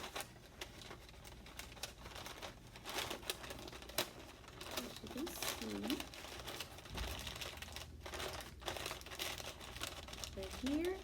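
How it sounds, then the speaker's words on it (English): Crisp crinkling and rustling as the top of a paper bag piñata is folded over, a steady run of close paper handling heard under a person talking. "Now we're going to be folding it on the top"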